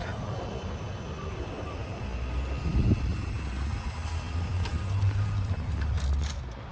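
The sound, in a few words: tram passing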